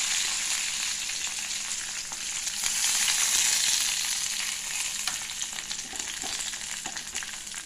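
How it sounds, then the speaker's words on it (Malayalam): Mustard seeds and curry leaves sizzle and spatter in hot oil, a loud continuous frying hiss close by that swells briefly midway and carries on with no voices. "കടുക് പൊട്ടി കറിവേപ്പില ഇട്ടിട്ടുണ്ടോ"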